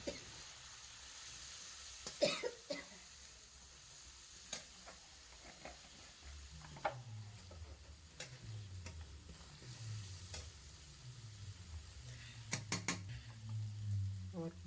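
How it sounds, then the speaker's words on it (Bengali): Ground spices fry in a pan for ghugni, a low sizzle under repeated scraping and stirring strokes with a few sharp taps of the utensil, close and without speech. "এবারে মশলাটা খুব ভালো করে কষে নেব।"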